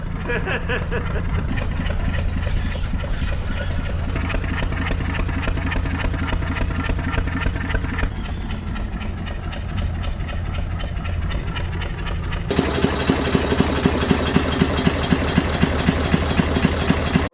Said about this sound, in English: the engine might run a bit smoother now that it's got a bit of fuel pressure in the tank pushing the diesel into the engine